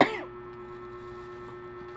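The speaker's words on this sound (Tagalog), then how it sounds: "Yan lang, ubo ako." A single short cough at the very start, followed by quiet background hum.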